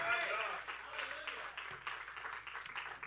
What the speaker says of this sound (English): somebody give the Lord a clap offering tonight.